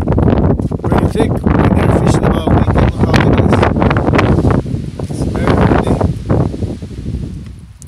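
Bitter cold wind blows across a frozen lake during smelt ice fishing at minus 30 wind chill, buffeting the microphone in loud, uneven gusts that ease slightly toward the end.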